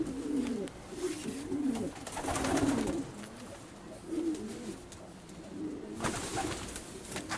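Racing pigeons in a loft in Urziceni, Romania, give repeated soft cooing calls, steady and close, against a faint background hiss with no talking.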